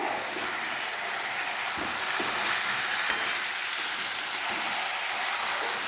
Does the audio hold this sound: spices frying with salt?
yes